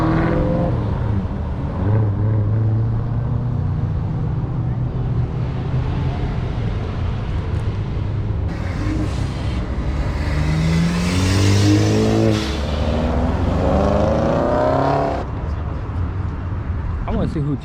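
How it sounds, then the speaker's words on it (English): Nissan GT-R cars roll out at a Cars and Coffee show, engines rising and revving at mid distance among crowd noise, with people talking over them much of the time. "did the GTRs roll out? Yep, they did."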